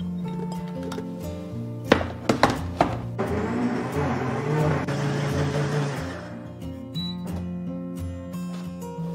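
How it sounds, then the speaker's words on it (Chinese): A high-speed blender purees 800 g of fresh strawberries. A few sharp knocks come first, then a roaring burst from the motor runs for about three seconds before cutting out, over a faint steady tonal background. "我们直接加入到破壁机里面给它打碎"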